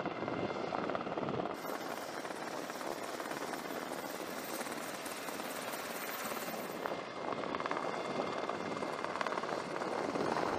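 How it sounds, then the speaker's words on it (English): A helicopter's whirring rotors throb loudly and steadily throughout, close and continuous, during a special forces HALO jump. "It can be disorienting to jump so close to the chopper's whirring rotors."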